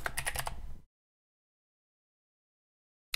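A computer keyboard gives a quick burst of several clicking keystrokes that stops abruptly, followed by silence.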